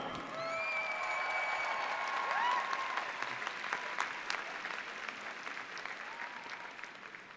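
Arena crowd at a U.S. figure skating championships exhibition breaks into sustained applause, a dense, distant wash of clapping with scattered whistles and cheers that swells and then slowly fades.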